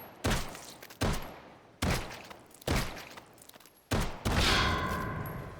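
Pistol shots in the VR shooting game H3VR: about six sharp, separate reports spaced roughly a second apart, each trailing off in a short echoing decay, the last two coming closer together.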